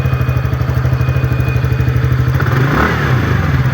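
A TVS motorcycle engine idles close and loud after throttle tuning and fuel-injection cleaning, with a rapid, even thumping pulse and a brief rev near the end.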